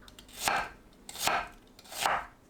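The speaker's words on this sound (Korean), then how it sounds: "양파를 채 썰어주세요." Knife slicing onion into thin strips on a cutting board, three separate slow chopping strokes spaced evenly apart, close and fairly quiet with no talk.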